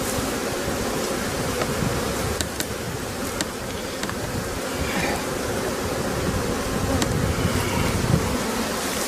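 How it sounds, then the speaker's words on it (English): Honey bees swarm around an open hive during beekeeping, a dense, continuous buzzing drone close to the microphone with individual bees whizzing past now and then. "they're so much easier to shake the bees off a bit later on"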